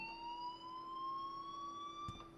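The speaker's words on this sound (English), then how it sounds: "please turn off that alarm since that's your job" An alarm in the video game Life is Strange rings as a steady electronic tone with several layered pitches, held continuously and quite faint, with a brief soft thump near the end.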